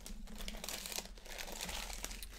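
Foil hockey card packs being torn open and unwrapped crinkle and crackle continuously up close, a busy rustle of wrapper with no speech over it.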